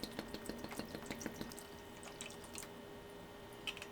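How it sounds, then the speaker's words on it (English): Water poured into a larger darkroom washing tray for rinsing prints after fixing, heard as a string of quick close drips and splashes that fade into a soft, quiet trickle. "I pour up some water in a bigger tray for washing after fixing."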